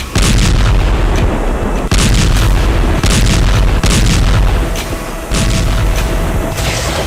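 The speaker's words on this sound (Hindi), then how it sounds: "वहां अचानक शुरू हो गए धमाके" Loud booms and blasts of artillery fire in the war in Ukraine repeat in rapid succession, heavy and close, forming a continuous barrage with short pauses.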